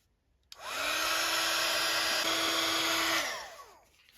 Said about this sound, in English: let's give it a little bit of a heat gun to dry off